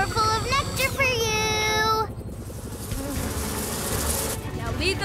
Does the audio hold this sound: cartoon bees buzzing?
yes